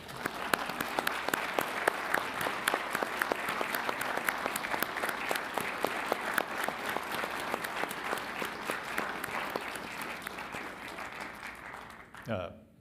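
Audience at a Las Cruces city council meeting applauds a family, steady dense clapping for about twelve seconds with a few louder claps, fading out at the end as a voice starts.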